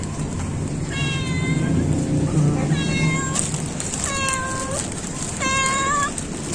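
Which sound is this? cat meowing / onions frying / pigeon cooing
cat meowing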